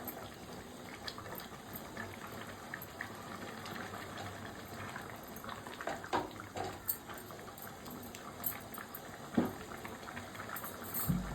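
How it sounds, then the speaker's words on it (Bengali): Curry in a pot, with water just added, simmers and bubbles steadily, a soft, close burble with occasional small pops and no voices. "এখন একটু সিদ্ধ হইতে বাকি আছে, একটু পানি দিয়ে দিলাম"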